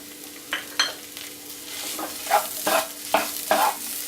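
A spoon scrapes and stirs thick masala with chopped coriander in a pan in several short, uneven strokes, with a faint sizzle underneath and no talking.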